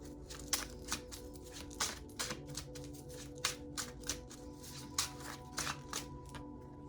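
Quiet bursts of tarot cards being shuffled come at regular intervals, close by, over a soft steady hum.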